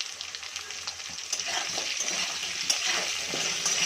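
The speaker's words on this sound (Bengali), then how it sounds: "ভালো করে নাড়িয়ে আলুটা ভেজে নেব" Potato pieces sizzle in hot oil with a pinch of salt and turmeric, a close, steady frying hiss broken by scraping and clicking as they are stirred in the pan.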